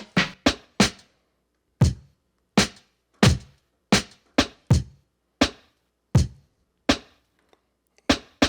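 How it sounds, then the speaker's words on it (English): Sharp, dry sampled snare drum hits on an Ensoniq ASR-10 sampler in an irregular pattern, some in quick pairs, each decaying fast into silence, played alone. "that's the snare track"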